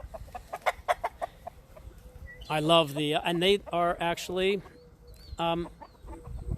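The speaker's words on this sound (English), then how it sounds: "But these roosters are beautiful." Roosters cluck and call in short bursts close by, with a loud crowing-like outburst in the middle, while people talk over and around the birds.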